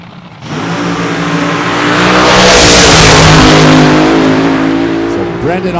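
Nitro drag racing car from the Famoso Raceway nitro finals making a single run, a loud, sustained engine roar that swells to a peak midway and then fades, with crowd or announcer noise underneath.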